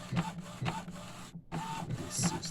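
A DTG A4 printer under repair runs a print job, its head making rhythmic mechanical passes about every half second, close and moderately quiet, with a short pause midway and no voices.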